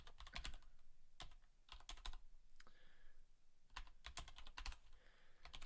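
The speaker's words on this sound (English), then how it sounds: "Let me finish typing this." Someone types on a computer keyboard in quick clustered bursts of crisp key clicks with short pauses between them, close by and fairly quiet.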